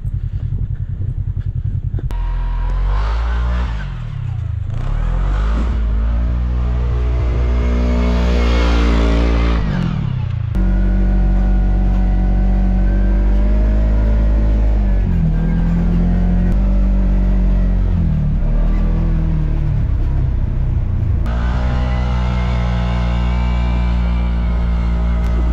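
A sport UTV fitted with snow tracks drives through falling snow, its engine loud and close, revving and rising in pitch through repeated accelerations, then settling and pulling again.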